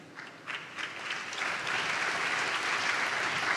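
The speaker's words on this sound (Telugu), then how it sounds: "చప్పట్లు కొట్టారు కదా" An audience breaks into applause, starting with a few scattered claps and swelling into steady, dense clapping that continues to the end.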